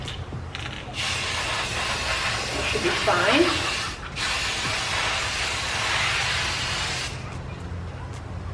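Gold metallic spray paint hissing from an aerosol can onto a thrifted side table, a continuous close spray broken by short pauses near one, four and seven seconds, with a person briefly speaking over it.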